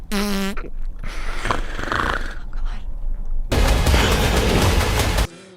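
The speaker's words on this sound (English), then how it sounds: "So if your character farts, you might be done for." Fart sound effect, a loud, long, rough blast that sputters and stops abruptly, alone without speech.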